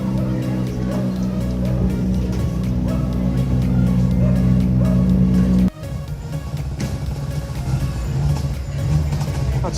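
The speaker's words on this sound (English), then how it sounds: "Oh yeah, a lovely noise, isn't it? The Fiesta." A Ford Fiesta rally car engine revs at rally scrutineering, a loud sustained engine drone that drops suddenly midway and then carries on more roughly, with people talking nearby.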